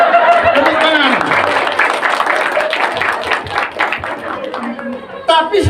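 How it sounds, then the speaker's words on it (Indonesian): An audience at a book discussion claps steadily in a room, dense applause lasting several seconds with scattered chuckles, then fading and briefly swelling again at the end. "Tepuk tangan."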